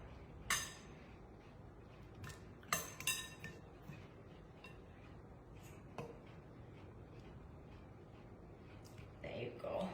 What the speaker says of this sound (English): you can just use a fork and then work the butter